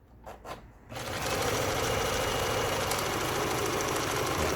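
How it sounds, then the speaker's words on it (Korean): A Janome 419S sewing machine stitching steadily. After a couple of brief whirs, the motor settles into a loud, continuous, even drone. "아주 힘차게 박음질이 돼서 나옵니다"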